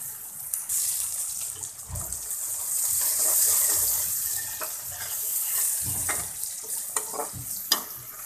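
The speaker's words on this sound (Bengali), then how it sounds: "পেঁয়াজটা ব্রাউন কালার করে ভেজে নিব।" Ten or twelve chopped onions fry with salt in a pan until brown, giving a steady close sizzle broken by occasional stirring scrapes and clatters.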